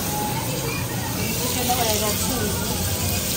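Shrimp sizzling as they fry in a hot pan, a steady close hiss and crackle filling the whole short stretch without pause.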